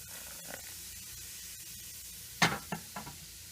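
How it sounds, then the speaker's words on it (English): Faint, steady fizzing hiss of root beer mixed with hot sauce, with a few clunks and splashes as it is poured into a crock pot partway through. "take our mixture of root beer and hot sauce, pour it right in, listen to it fizz"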